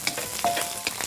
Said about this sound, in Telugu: తర్వాత ఉల్లిపాయలు బాగా వేగనివ్వు